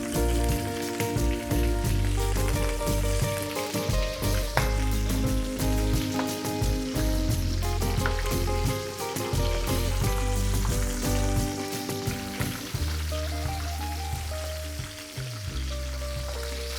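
Scampi sizzling in a pan with garlic for spaghetti allo scoglio, a dense, continuous crackle and spit of hot oil with an underlying hum, steady and close throughout.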